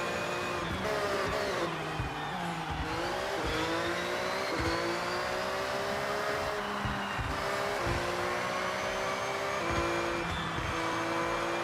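A race car engine in Forza Horizon, held steady and feathered on the throttle through tight corners, droning continuously with small rises and dips in pitch, mid-level and without speech.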